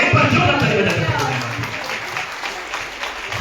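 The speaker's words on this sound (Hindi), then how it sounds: "एक बार जोर ताली बजा के" Church congregation at a Christmas meeting clapping loudly together, a dense sustained burst of applause that fills the room and slowly thins out over a few seconds.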